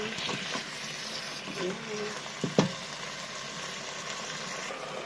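Chicken apritada sautéing in a pan, a steady close sizzle with a few scraping stir strokes and knocks partway through, alone without talk.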